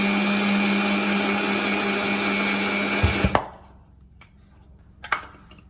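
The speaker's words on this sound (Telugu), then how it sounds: "మిక్సీ జార్ తీసుకొని అల్లం ముక్కలు వెల్లుల్లిపాయలు వేసుకోవాలి ఒకటిన్నర స్పూన్ గసగసాలు రెండు స్పూన్ల కొబ్బరి పొడి వేసుకొని మెత్తగా రుబ్బుకోవాలి" Electric mixer grinder blending ginger, garlic, poppy seeds and coconut powder with water, a loud steady whir running about three seconds before cutting off, followed by a few faint clicks and knocks of the jar.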